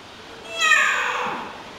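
A talking parrot at a bird park gives one clear, rising-then-falling cat-like meow, a voice imitating a cat, close and fairly loud on its own.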